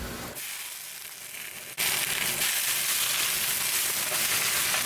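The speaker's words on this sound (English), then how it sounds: "I'm just gonna let the garlic cook in it a little bit and then I'm gonna add the spinach." Garlic and spinach cook in ghee in a pan, starting as a moderate sizzle that jumps to a louder, dense, continuous frying hiss partway through.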